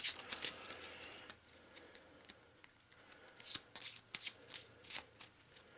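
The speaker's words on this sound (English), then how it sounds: "we'll just give it a quick shuffle" A deck of cards from the Eldritch Horror board game gets a quick shuffle, a few close bursts of riffling and flicking card noise separated by brief quiet handling sounds.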